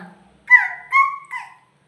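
A voice imitates a crow's caw, three short nasal calls in quick succession, close and clear against silence.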